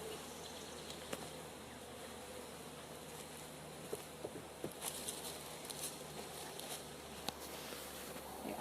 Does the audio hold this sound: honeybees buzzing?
yes